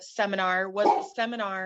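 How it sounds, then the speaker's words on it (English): A dog barks and yips close by, two bursts with a short break between them, mixed in with a person talking over the noise. "sorry, that's my dog"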